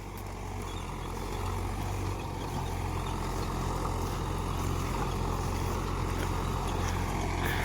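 A Mahindra Yuvo 575 tractor pulling a plough through a field, its engine a steady, close, heavy rumble that holds constant with no voices.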